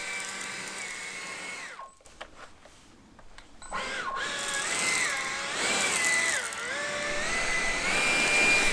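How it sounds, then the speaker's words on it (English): A STIHL BGA 60 battery leaf blower whirs steadily while blowing leaves, with a shifting pitch as the airflow is adjusted; the sound drops out briefly, then returns close and loud. "So as I'm moving the leaves along, there will be a pile up at some point"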